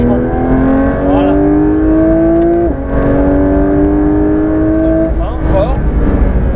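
Porsche 992 GT3 RS accelerating hard on a race circuit, its engine note rising steadily through the revs, with sharp gear shifts and a loud, close, continuous roar.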